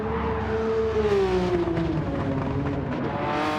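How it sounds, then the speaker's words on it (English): A twin-turbo Nissan R33 GTR race car engine in Gran Turismo 7 revving high and shifting pitch as it accelerates, loud and close, with a steady whine over the roar. "Benzo now in the Team Hard Yazoo liveried R33 GTR. Lovely sound this machine makes."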